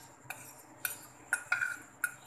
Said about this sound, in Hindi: अब हम मिक्स करते हैं ये चिकन और ये वेजिटेबल्स